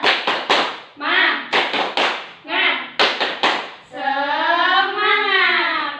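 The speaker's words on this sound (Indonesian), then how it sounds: "Kita cek semangat dulu. Tepuk semangat." A class of fifth-grade pupils performs the rhythmic 'tepuk semangat' clap, with sharp bursts of group hand claps in a patterned beat, then a loud, sustained shout from the children in unison.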